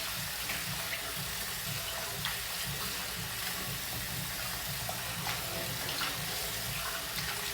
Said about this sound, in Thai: เปิดน้ำให้ไหลทิมเลยล้างล้างล้างล้าง ล้างมะขาม